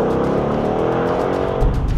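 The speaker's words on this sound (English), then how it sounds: "The 5-litre naturally aspirated V8 now breathing through an active exhaust." Ford Mustang Bullitt with a 5-litre naturally aspirated V8 and active exhaust, a steady loud rumbling burble held throughout, swelling slightly near the end, with no voices.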